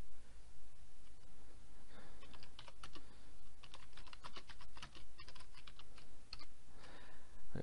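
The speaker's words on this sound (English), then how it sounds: "Let's just type it in here." Fingers type on a computer keyboard in quick, uneven bursts of soft, close clicks with brief pauses between, and no one talks.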